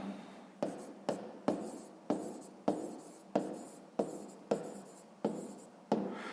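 A hand writing out a sixth-grade math solution, a regular series of about a dozen scratchy pen strokes, each starting sharply and trailing off, close and quiet with no talk.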